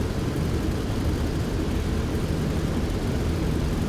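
A P-47 piston engine runs steadily as the aircraft taxis in the DCS flight simulator game, a dense continuous propeller drone with no break, close and even in level, with nobody speaking.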